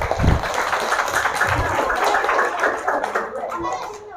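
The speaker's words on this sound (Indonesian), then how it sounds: "tepuk tangan dulu semuanya" Children and adults clap at a Quran memorization graduation ceremony, a lively patter of small hands mixed with children's chatter and voices, fairly close and loud.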